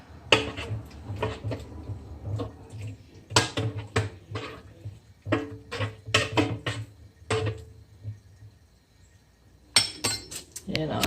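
Food being mixed with utensils in a dish, with bursts of sharp clinks and scrapes of metal on the dish separated by short pauses, close to the microphone.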